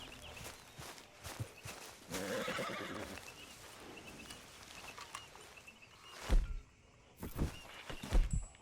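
A horse in the video game Red Dead Redemption II whinnies, mixed with clip-clopping hooves and footsteps, with louder snorts and thumps near the end, fairly quiet overall.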